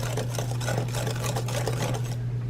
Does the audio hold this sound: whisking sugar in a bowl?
yes